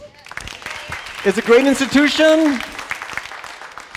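Audience applause and cheering at a lecture for the California Academy of Sciences: a dense patter of clapping runs throughout and swells in the middle beneath a speaking voice.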